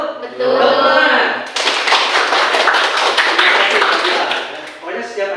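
A classroom of students claps for a classmate's correct answer in a lesson: sustained, dense, close applause running for several seconds, with voices mixed in at the start and end.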